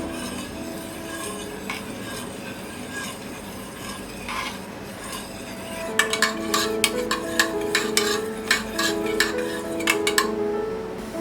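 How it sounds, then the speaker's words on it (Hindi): Yogurt is stirred into an ingredient mix inside a kitchen container, giving steady scraping and swirling, followed by a run of sharp, close metallic clinks of a spoon against the container in the second half. No one speaks. "इसमें भी डालेंगे। मिक्स कर देंगे।"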